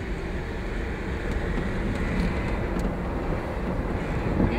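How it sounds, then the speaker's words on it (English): Th!nk City electric car accelerating hard from a stop, its gearbox giving a steady broadband whine and rumble with road noise inside the cabin, continuous and fairly loud with no talking. "It does have a noise though. It's like, is this the motor? Yeah, that's the actual the gearbox."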